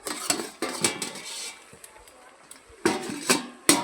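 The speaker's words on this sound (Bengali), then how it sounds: "এবারে আমি ঢাকা দিয়ে দেবো," Metal lid clanks onto a pot during cooking of a spicy lote (Bombay duck) fish curry on a stove: a few sharp clatters at the start, a quiet pause, then more metallic knocks and a final clank.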